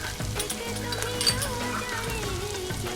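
Fresh minced garlic and ginger sauté in a hot pan while cooking butter chicken, giving a steady, close sizzle that runs the whole time, with light stirring clinks underneath.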